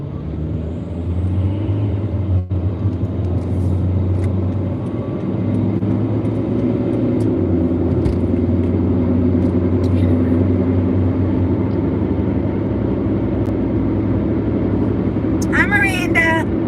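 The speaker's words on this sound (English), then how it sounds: "I can hear his truck running" Steady low engine rumble from an idling truck, running continuously at moderate distance throughout, with a voice talking over it.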